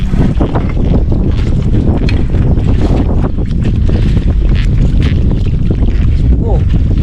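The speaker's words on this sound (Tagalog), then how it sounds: "Malakas yung hangin." Strong wind buffets the microphone on a boat, a loud low roar with gusty bursts and water sloshing around the hull.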